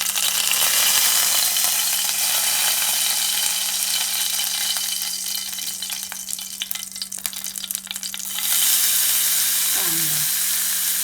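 Curry leaves and mustard seeds crackle in hot oil, a dense steady sizzle filling the whole clip, briefly softening in the middle before surging loud again near the end, with a faint hum underneath.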